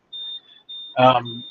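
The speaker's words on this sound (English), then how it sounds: "Sorry about the beeping that you hear." A carbon monoxide detector emits a thin, high-pitched electronic beep, repeating in short chirps, while a voice speaks briefly over one of them.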